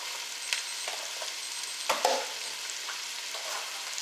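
Carrots, celery and onion fry in a pot for pot roast, a steady close sizzle with a few stirring scrapes and clicks of a utensil, heard alone without talk.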